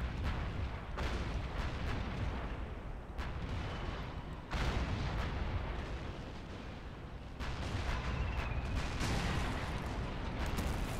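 Eastern Front tank battle in the RobZ Realism Mod video game: heavy artillery booms and gunfire roll continuously, dense and loud, with several strong blasts.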